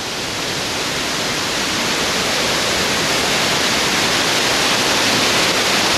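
Water in a stream near Tel Dan rushes toward the Nahal Dan, a loud, close, unbroken broadband roar of flowing water filling the whole stretch without any voices.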